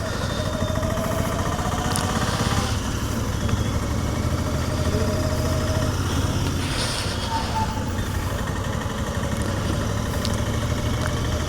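Royal Enfield Continental GT 650 twin with its stock exhaust, ridden on an early winter morning road, gives a steady, continuous low engine rumble at cruising pace, loud and close throughout with wind and road noise mixed in.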